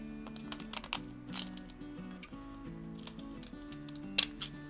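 Edging scissors snip through a paper pattern in a craft and painting setting, giving a run of quick, close, soft clicking cuts over quiet background music.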